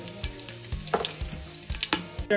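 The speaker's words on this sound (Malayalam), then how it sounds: "പിന്നെ ഗ്രാമ്പു, പിന്നെ ഏലക്ക, പെരിഞ്ജീരകം, ഇത്രയും നമ്മൾ അങ്ങോട്ട് ഇട്ട് കൊടുക്കുവാണ് ഓയിലിനകത്തോട്ട്." Cloves, cardamom and fennel seeds sizzle in hot oil in a pan, a steady close crackle with small pops and stirring scrapes, no talk over it.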